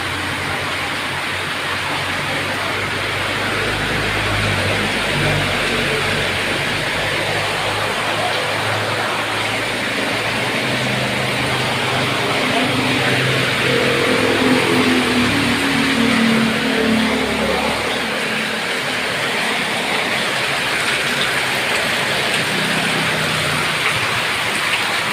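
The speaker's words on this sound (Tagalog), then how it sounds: "Lakas ng ulan." Heavy rain pours down continuously, a dense, loud hiss with a low rumble underneath and no voices.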